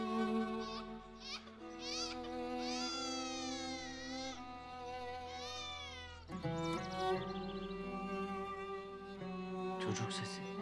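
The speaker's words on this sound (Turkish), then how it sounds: "Çocuk sesi." A baby or young child crying in a Turkish film scene, high wavering wails rising and falling in repeated bursts, loud and close, with a voice briefly heard alongside.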